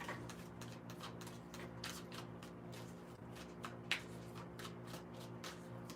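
Tarot cards being shuffled by hand in a quiet room, a fast run of soft riffling flicks repeating steadily, with a low hum underneath.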